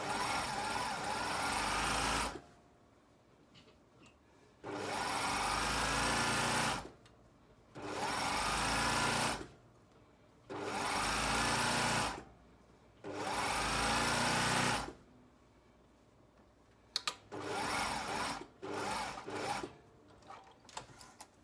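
Sewing machine running in five steady bursts of two to three seconds each, stay stitching around the edge of a flared trouser waistband in drapey crepe or rayon, with short pauses between runs and a few choppier starts at the end.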